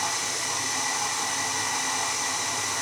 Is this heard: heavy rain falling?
no